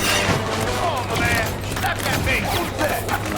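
Rapid gunfire and grenade blasts from the block-building shooter game Block N Load, a dense continuous barrage of shots and bursts with a steady hum underneath and faint voices in the mix.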